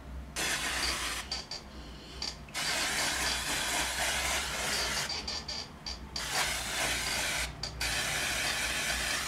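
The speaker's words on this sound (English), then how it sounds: "Like, it's hairspray. Nothing more, nothing less. Hairspray with colour in it." L'Oreal Colorista colored hairspray is sprayed onto hair in several hissing bursts, each lasting one to a few seconds with short pauses between, close and fairly loud.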